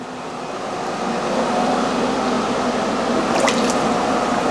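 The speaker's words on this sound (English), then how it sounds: "the water drains as it should be draining." Water gurgles and trickles steadily as it drains from a sink, a continuous wet rush with a few brief squeaky sounds near the end.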